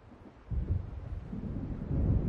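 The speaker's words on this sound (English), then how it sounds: "It seems there's a storm coming." Thunder from an approaching storm in the video game Alan Wake Remastered rolls in as a low, muffled rumble that swells after a quiet start and keeps grumbling, distant and fairly faint.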